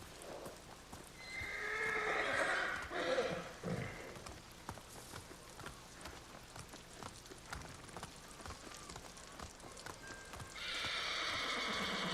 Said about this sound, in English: whose horse is freaking out?